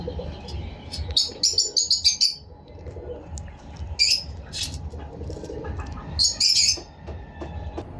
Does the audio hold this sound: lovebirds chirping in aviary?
yes